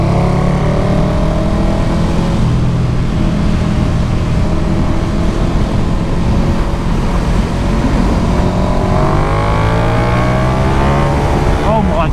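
A 2020 KTM 1290 Super Duke R motorcycle's engine roars loudly and continuously up close, its pitch sweeping up and down as it revs and pulls through the gears, with a sharp rising rev at the end.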